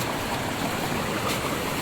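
A hillside waterfall and small streams flow together in a steady, close rush of water that fills the whole stretch without pause or voices.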